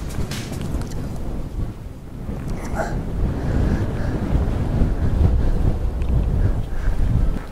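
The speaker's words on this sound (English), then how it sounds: "Blowing a gale." Strong wind roars across an exposed hilltop in Northumberland, buffeting the microphone with continuous heavy low rumble and gusty broadband noise that swells slightly as it goes on.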